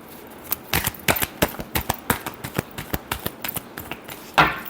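Tarot cards shuffled in a quick, uneven run of crisp snaps and riffles, close and fairly loud, ending with a longer brushing rush.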